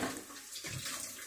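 Water pours steadily into a pressure cooker holding jeerakasala rice for quail biryani, a short, close, continuous splashing flow with no talking.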